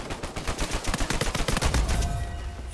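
Rapid bursts of gunfire from the video game Uncharted 4 crackle in quick succession, a dense volley of shots that thins out toward the end.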